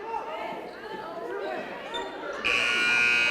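A loud, sustained electronic end-of-quarter buzzer at a girls' basketball game cuts in and holds, following bouncing echoes and commentary with a crowd murmuring behind.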